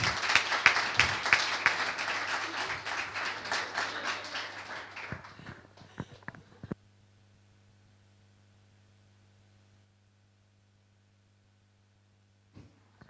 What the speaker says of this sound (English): They absolutely, they deserve a round of applause too.